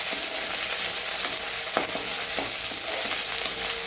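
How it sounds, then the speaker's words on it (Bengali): Curry leaves, onion, chilli, ginger and garlic sizzle and fry steadily in a wok, with occasional stirring scrapes and crackles, close and continuous, no voices. "কড়াই বসিয়ে দিয়েছি, এবার মশলাগুলোকে ভেজে নিই তাড়াতাড়ি"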